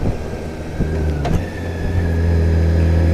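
Motorcycle engine droning steadily at close range, with a brief click and dip near the middle as a clutchless cheater shift drops the big bike from second into first gear, then the engine hum carries on.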